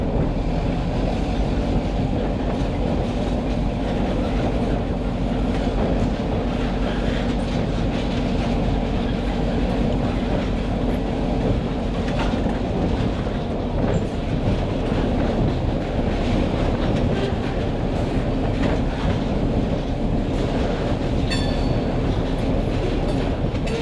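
A freight train hauled by EMD SD7 and SD9 locomotives on the Portland & Western rolls past nearby, a loud, steady rumble with continuous clickety-clack of wheels on rail joints and no voices throughout.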